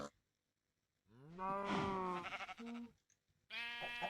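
A Minecraft cow moos twice, long and loud, with a short pause between the calls, close and clear against an otherwise quiet background.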